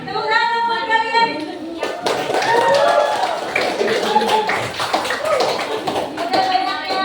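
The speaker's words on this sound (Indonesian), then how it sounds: "tepuk tangan buat kalian" A classroom group claps hands in a brief scattered burst of taps, mixed with shuffling and voices talking over it, heard close in a small room.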